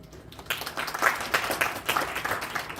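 Audience at a Korean sports and AI big data academic conference applauding after a presentation, a sustained crowd clapping that starts after a short quiet moment and continues steadily, moderately loud in a hall.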